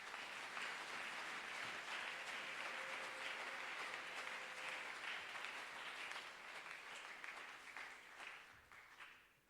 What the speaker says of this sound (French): Est-ce que nous pouvons acclamer pour la gloire de Dieu?